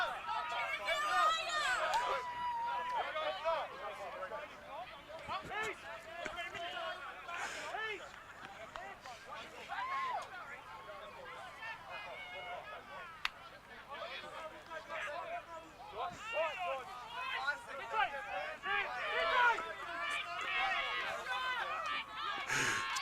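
Crowd at a Tasmanian Rugby Union qualifying final between Launceston Tigers and Taroona Penguins, a lively murmur of chatter and scattered shouts under a commentator's voice throughout.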